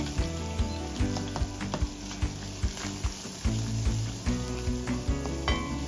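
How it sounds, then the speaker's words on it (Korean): Minced garlic sizzles steadily in a little olive oil in a preheated pan, a dense, continuous crackle close by, broken by repeated soft knocks of stirring against the pan. "예열된 팬에 올리브 오일 살짝 두르고 다진 마늘을 넣어주세요."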